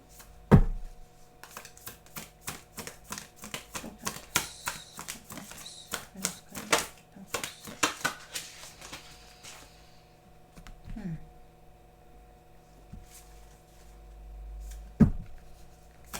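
Tarot cards shuffled and drawn by hand, a run of crisp clustered riffling flicks and snaps close by, then quieter scattered card placements with a sharp tap near the end.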